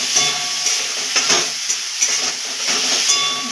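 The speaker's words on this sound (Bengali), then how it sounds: "এবার আমরা দিয়ে দেবো আদা আর কাঁচা লঙ্কা বাটা দিয়ে এটাকে একটু নাড়াচাড়া দেবো" Ginger and green chili paste being stirred into beans and potatoes frying in a pan. A constant sizzling hiss runs throughout, with regular soft scraping strokes from the stirring. No talking.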